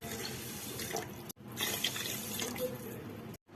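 Water pours into a pot of rice for khichdi, a steady close rushing splash that breaks off briefly partway through and again near the end.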